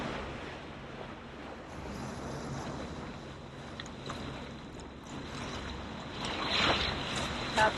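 A boat moves through bay waves off the coast of Colombia near a river outlet, giving a steady wash of water and wind noise throughout that swells louder toward the end.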